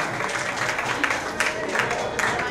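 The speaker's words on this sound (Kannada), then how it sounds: "ತಮ್ಮೆಲ್ಲರಿಂದ ಒಂದು ಜೋರಾದ ಚಪ್ಪಾಳೆ ಬರಬೇಕು ಅಂತ ಕೇಳ್ಕೊಳ್ತೀನಿ ನಾನು" An audience at a festival gathering claps together in a steady, dense wash of applause, fairly loud and continuous, with faint crowd murmur underneath.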